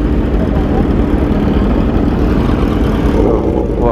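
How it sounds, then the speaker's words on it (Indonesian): A motorcycle's loud exhaust roars up close during a group ride, a dense, steady rumbling drone that fills the whole moment without a break. "gacor habis suara knalpotnya nih"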